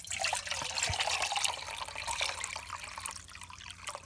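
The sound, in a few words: water poured from a water bottle into a camping pot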